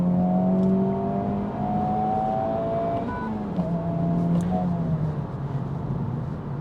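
A Honda Civic Type R FL5 pulls hard under acceleration, its engine note rising steadily and loud from the cabin with a continuous droning whir over the full stretch.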